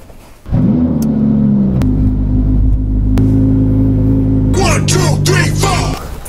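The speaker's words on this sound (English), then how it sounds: "Man, is this car raucous and loud." A Novitec-tuned Lamborghini Huracan EVO sits close by with its engine running loud and deep, the exhaust holding a steady, raucous drone. A few sharp crackles and pops ring out before the engine note drops away.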